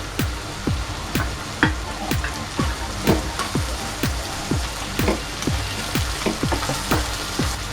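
Tomato with salt frying in a pan for khichuri made with jackfruit seeds and whole prawns: a constant crackling sizzle like rain, with a rhythmic stirring clank about twice a second, close by and without talk.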